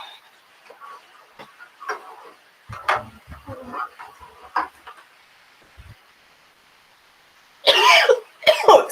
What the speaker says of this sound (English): I don't want to cough into the camera.